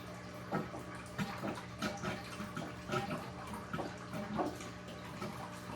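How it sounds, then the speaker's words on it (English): Faint, irregular trickling and gurgling water with soft splashes and drips as a fish tank is siphoned out with a hand pump, quiet and close, no voices. "You have to pump on this thing and siphon the water out."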